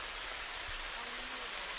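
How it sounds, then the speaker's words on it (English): Heavy rain pours steadily at an outdoor trap shooting range during a Para Trap World Championships final, a dense, even hiss filling the whole stretch with no voices or shots standing out. "I don't know if I've seen this kind of rain in the last month or so"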